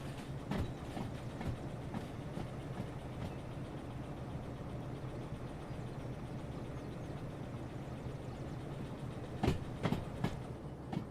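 A diesel-hydraulic DH4 locomotive hauls a heavy train in the Derail Valley simulator game, with a steady low engine rumble, faint rolling noise and occasional sharp clicks, louder near the end.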